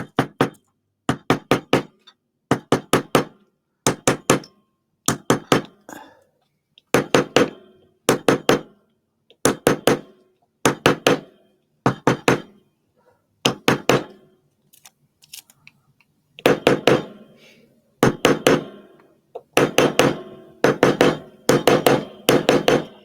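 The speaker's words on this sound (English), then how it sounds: "We're going to take our nylon hammer, and you can use most nylon hammers, and start gently" A nylon hammer strikes a metal disc in a dapping block to shape it into a dome for earrings or a pendant. Crisp, close taps come in quick bursts of three or four, repeating steadily with brief pauses between groups.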